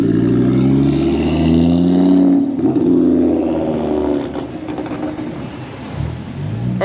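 Several cars pulling away from an evening car meet, among them a left-hand-drive, highly modified Ford Focus ST, with loud engines revving and accelerating close by before easing off into rumbling idle.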